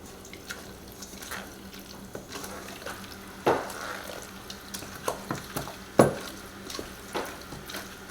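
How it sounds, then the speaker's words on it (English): A spoon stirs a crab dip mixture with cheeses, giving soft wet squelches and scrapes against the bowl, with a few louder clacks over a low background hum. "Let's get that mixed up nice."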